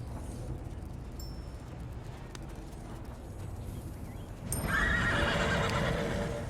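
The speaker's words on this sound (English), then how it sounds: "some kind of demon horse appears" A demon horse in the Elder Scrolls Online video game gives a loud, close neigh and snorting whinny, preceded by quieter ambient game sounds and faint hoof clip-clops.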